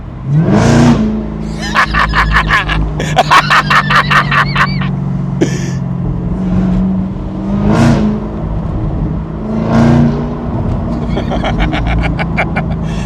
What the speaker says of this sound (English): You never get tired of that V8 sound, supercharged V8 sound.